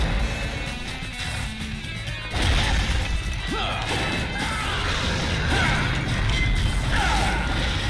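Objects smashed to pieces in the action video game God Hand, a busy mix of crashing breaks, thuds and whooshes over a constant noisy game background, with no clear pauses.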